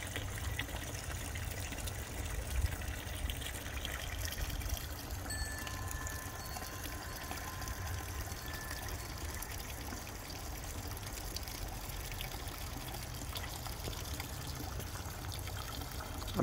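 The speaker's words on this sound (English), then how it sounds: "Another water feature." Water trickling and pouring steadily in a Japanese garden water feature, a soft continuous splash at low volume with faint outdoor ambience and a little wind.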